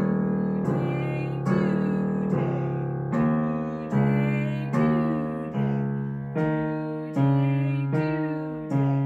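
Piano playing the student part of the children's tune Ring Around the Rosy, a steady back-and-forth of bright notes and chords struck about once a second, each decaying before the next, alone and clear.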